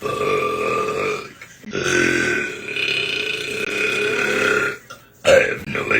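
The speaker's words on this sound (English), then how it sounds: "I am the belch queen." A woman lets out long, loud, drawn-out burps up close, one sustained belch followed by another, then a brief pause and a short final burst.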